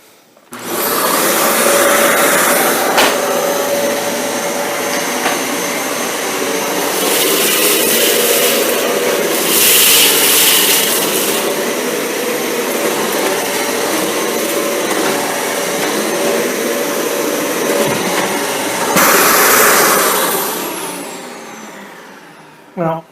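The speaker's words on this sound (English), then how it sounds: "We'll be running this with the brush bar off, so it'll be just relying on its suction" A Dyson Cinetic Big Ball vacuum cleaner runs with its brush bar switched off, relying on suction alone. A loud, steady whine and airflow rush carries on throughout, with brief surges in pitch, then cuts off at the end.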